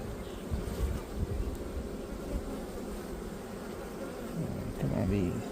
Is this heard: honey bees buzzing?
yes